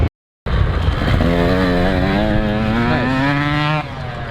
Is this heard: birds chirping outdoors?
no